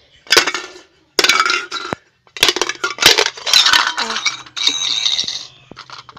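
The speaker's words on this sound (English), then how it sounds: "I will crack the egg." A plastic Kinder Egg capsule being cracked open during a toy unboxing, giving a series of sharp clicky snaps and rattling knocks in several bursts, close and fairly loud, with no talking.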